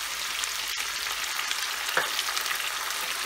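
Chicken pieces for Chicken Manchurian frying on high heat in a pan while being stirred, a dense, steady hiss and crackle of sizzling oil, close and continuous, with a brief scrape of stirring partway through.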